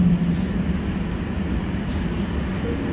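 An Oslo Metro train runs on the ring line, giving a continuous low rumble and rolling rail noise at close range inside the car, steady throughout with faint squeaks near the start and end.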